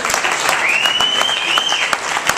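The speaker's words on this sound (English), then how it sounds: "We should give them a round of applause." Conference audience applauding, a full steady burst of many claps at strong level from start to finish, with a brief tonal whistle or voice rising through the middle.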